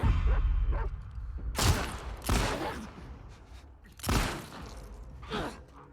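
A few loud, sharp dog barks in bursts over a low rumbling background, with short pauses between them, from the video game The Last of Us Part II.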